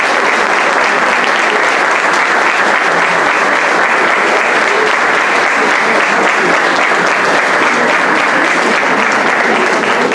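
A crowd at a school inauguration claps in loud, dense, unbroken applause that holds steady throughout without any break.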